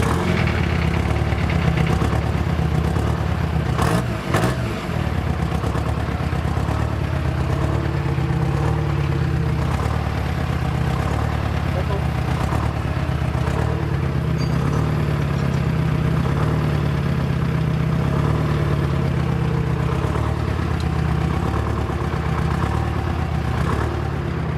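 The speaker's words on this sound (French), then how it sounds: "Là, tu peux démarrer la machine." A Timberjack 240E forestry skidder's diesel engine cranks and catches early on, then settles into a steady, loud, low idling rumble with constant vibration throughout.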